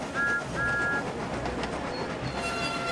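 A steam train engine labours uphill with a steady rolling rail rumble, and brief high whistle tones sound near the start of a short three-second stretch, with no voices.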